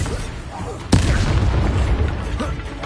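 A Bombarda spell explosion in the video game Hogwarts Legacy lands as one sudden loud burst, followed by a dense rumbling roar with crackling debris and battle sounds.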